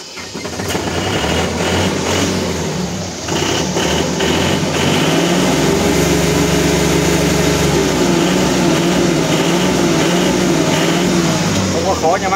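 A TA 287 machine's engine runs steadily and revs up during a test, a loud, continuous rumble with rising and falling pitch close at hand, with people talking under it.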